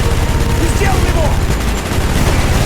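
Rapid, sustained minigun fire in the Call of Duty: Black Ops video game, a loud continuous rattle with booming low end running through the whole stretch, with a voice and battle noise mixed in.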